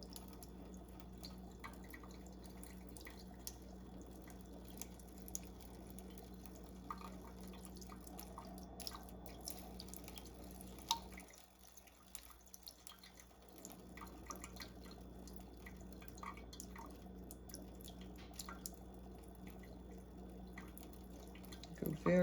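Water trickling slowly from a jar into a sink as it is poured off settled pigment, a faint steady dribble with scattered drips throughout, briefly pausing partway through.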